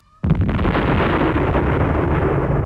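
A huge movie explosion set piece from The Exterminator, staged in a Vietnam war setting: a sudden loud blast that becomes a sustained, dense roar and rumble, heavy and close, with no talk over it.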